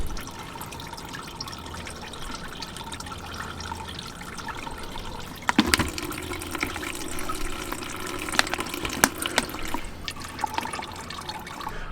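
Coolant draining from the cooling system of an 88-98 Chevy C/K1500, a steady trickle and splash of liquid into a container that grows fuller midway, with a few clinks and no speech.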